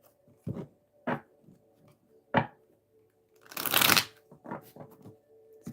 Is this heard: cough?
no